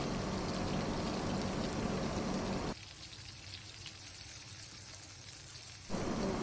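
Chicken pieces sizzle in a hot frying pan for a homemade chicken sizzler, a steady broadband hiss and crackle that drops to a quieter sizzle midway, then rises again near the end.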